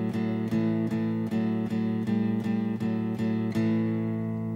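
An electric guitar repeats a chugging low-note rock riff with regular, even attacks and ringing sustain, played alone.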